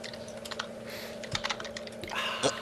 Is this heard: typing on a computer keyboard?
yes